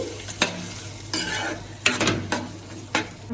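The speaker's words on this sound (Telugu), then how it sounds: "పుల్లని గోంగూర తాలింపులో కలిసే వరకు బాగా కలుపుకోవాలండి." A spoon scrapes and stirs sour gongura paste through a sizzling tempering in a pan, in several distinct strokes, with a steady frying hiss between them.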